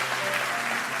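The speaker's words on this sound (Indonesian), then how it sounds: "kasih tepuk tangan tuh semuanya" Audience in Kupang, Nusa Tenggara Timur, clapping at a devotional gathering, a short, even burst of moderate applause with no speech on top.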